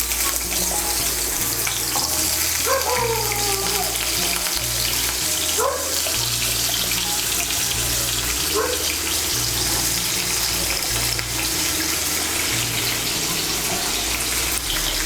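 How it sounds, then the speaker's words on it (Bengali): Two medium new potatoes, cut into pieces, sizzle in about a tablespoon of oil for a soybean dish, a constant bright crackle heard close under a steady musical background. "এর মধ্যে আলুগুলো ভেজে নেব।"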